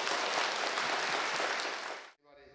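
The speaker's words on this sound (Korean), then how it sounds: "큰 박수로 환영해 주십시오." Audience applause greets thirteen new students at a church-run seniors' college entrance ceremony, loud, dense clapping filling the hall for about two seconds before cutting off abruptly into quieter tonal sound.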